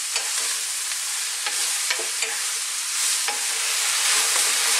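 Sliced vegetables for vegan spring rolls sweat and sizzle in a hot pan, a steady close crackle with soft scraping stirs every second or so, and no one speaking.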